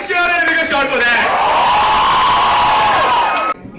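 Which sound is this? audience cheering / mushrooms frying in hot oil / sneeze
audience cheering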